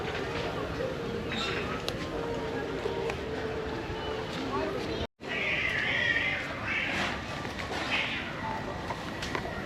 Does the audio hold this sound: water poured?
no